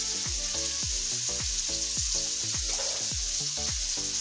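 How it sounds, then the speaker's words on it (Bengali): Onion, garlic and ginger frying in oil, with a steady, bright sizzle throughout and a series of short, squeaky scraping strokes as the pan is stirred, close-up with no voices. "পরিমাণ মতো তেলে পেঁয়াজ রসুন আদাটা একটু ভেজে নিল"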